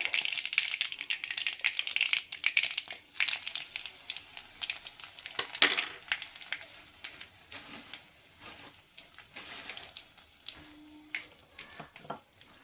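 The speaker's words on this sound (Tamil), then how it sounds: "கடுகு பொரிஞ்ச உடனே அனல் கம்மி பண்ணிக்கலாம் ரெண்டு வரமிளகா கிள்ளி வச்சுருக்கேன் அதை போட்டுக்கலாம்" Dried red chillies and mustard seeds sizzle and crackle in hot oil for a tomato rasam, a close, busy frying hiss with scattered pops and soft stirring, fairly quiet and without speech.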